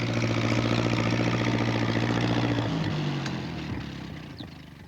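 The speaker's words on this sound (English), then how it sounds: "Here comes Alf. He's going to try to get through with his tractor." A tractor engine runs loudly with a steady, throbbing low-pitched idle, then shifts pitch and gradually fades as it moves away.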